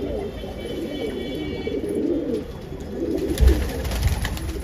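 A pigeon cooing softly nearby with low murmuring calls, a light flutter and thump near the end as it settles on a perch, no talking.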